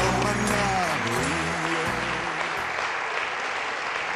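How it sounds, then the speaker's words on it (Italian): Studio audience applauding on an Italian TV game show, a dense, steady wash of clapping that stays loud throughout while a speaking voice carries over it in the first half. "Voi applaudite, applaudite."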